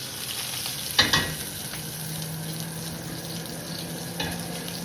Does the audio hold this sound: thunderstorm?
no